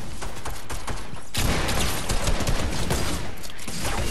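Snowball launcher in a video game fired in a rapid, relentless burst, a dense crackling barrage that starts softer and swells to a loud, continuous stream.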